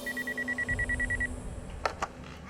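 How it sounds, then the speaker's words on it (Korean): A telephone rings at the Tequendama Hotel in Bogotá: a fast, even electronic trill of rapid pulses that runs steadily for just over a second and then stops, followed by a low hum and two brief sharp clunks. "그리고 예상대로 전화벨이 울렸죠."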